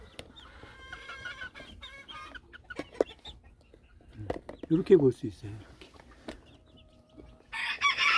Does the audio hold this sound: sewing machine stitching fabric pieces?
no